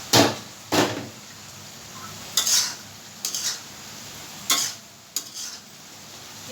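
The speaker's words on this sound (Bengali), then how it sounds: "আমি ভেন্ডি দিয়ে দিলাম, এটা এখন ঝোল করবো" Okra cooking for a curry in a pan, with a low steady sizzle under repeated sharp scrapes and clinks of a spoon stirring, about seven strokes at irregular intervals, close and fairly loud.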